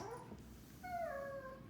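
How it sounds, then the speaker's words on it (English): A dog whines softly, a few thin high-pitched whimpers rising and falling, fairly quiet against a still room. "That is my dog, Lucy Diamond, whining again."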